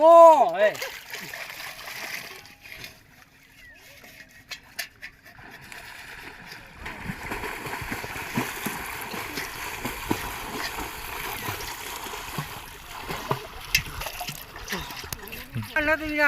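River water splashing and sloshing as people bathe in a river at a shrine, with irregular splashes and a continuous watery wash, voices speaking over it.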